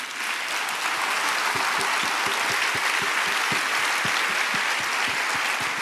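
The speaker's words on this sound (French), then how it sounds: "Et rien que pour ça, vous pouvez applaudir Catherine." A theatre audience at a mentalist's stage show bursts into loud, sustained applause, a thick wash of many hands clapping steadily from start to finish, with no speech over it.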